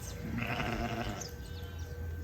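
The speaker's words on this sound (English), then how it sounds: "Just over here sitting at camp, and the sheep just came out." Sheep bleat near a campsite in southern Brazil, a soft, wavering call or two rising over quiet outdoor background, fairly faint and unaccompanied by talk.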